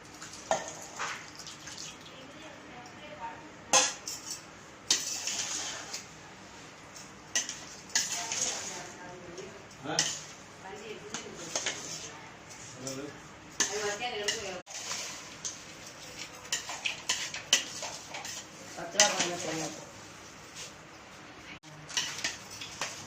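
Curd rice being stirred in a pot for a temple meal, with repeated scraping and clinking of a utensil against the metal, fairly close, continuing with pauses under a speaking voice.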